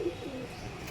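Pigeon cooing, a fancy Murshidabadi teddy breed, low and soft over a steady background hum; one brief coo stands out near the start.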